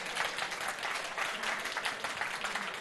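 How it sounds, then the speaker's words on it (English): Applause from an exhibition audience at the close of a talk, a steady, dense wash of clapping that holds evenly throughout without breaks. "Have a round of applause."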